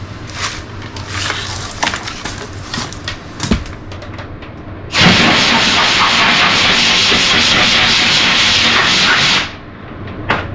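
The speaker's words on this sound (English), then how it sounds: "I hit this with a 60 grit." Sanding a rusty car body panel with 60 grit sandpaper, a broad steady rasping hiss that runs loud and unbroken for several seconds after quieter scattered scraping strokes.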